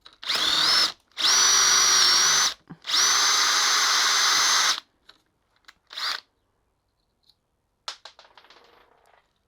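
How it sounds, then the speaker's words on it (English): A cordless drill drills out a bolt head on a Suzuki DRZ400SM motorcycle, whining loudly in three bursts, the last running several seconds, then brief metallic clinks and a short rev as things settle. "now I need to drill out the head bigger than the shaft is"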